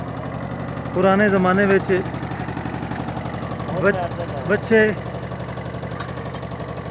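A small tractor with a traditional plough attached idles with a steady, low, rhythmic chug that runs throughout, while someone speaks over it in two bursts.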